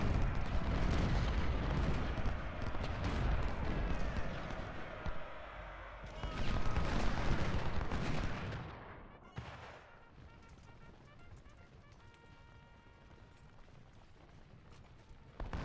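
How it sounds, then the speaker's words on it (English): Musket volleys crack out in the Ultimate General: Civil War game during a Gettysburg retreat, a dense rolling roar of massed gunfire that fades after about nine seconds into quieter scattered battle sounds. "troops are going to buy a little bit of time by shooting a few volleys off"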